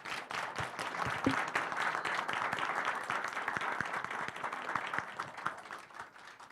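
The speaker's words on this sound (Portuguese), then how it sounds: "peço uma salva de palmas para o nosso palestrante." Audience applause at a technical lecture, a roomful of hands clapping steadily and densely for several seconds before slowly thinning toward the end.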